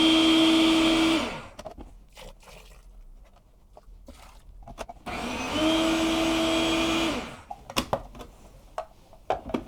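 Homemade spicy ketchup churns loudly in a blender, with two steady high-pitched whirring runs of about a second and two seconds separated by a quiet gap, then clatters and taps as the jar is handled.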